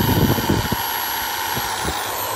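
A Polymak 10mm self screw drilling machine running at medium speed produces a loud, steady high motor whine, with a few soft knocks and handling sounds early on.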